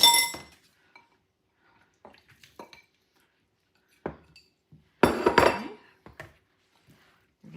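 A spoon mixes drained canned mandarin oranges and pineapple tidbits in a bowl for a pudding fruit salad: sparse, bright clinks against the bowl, with a denser cluster of clattering taps midway and near-silence between.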